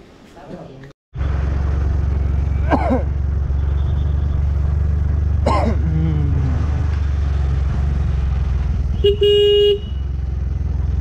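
A car travels a narrow mountain road on the route to Kalimpong, its engine droning loudly and steadily from inside the cabin. A short horn blast sounds near the end, and a couple of faint chirps come earlier.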